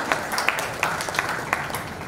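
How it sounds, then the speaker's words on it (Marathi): An audience at a children's poetry gathering applauds a child poet, a thin, moderately distant patter of scattered claps that stays fairly even throughout. "हितेनसाठी एकदा जोरदार टाळ्या."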